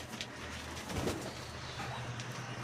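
Pigeons in a loft give a low, soft coo amid quiet rustling and shuffling nearby.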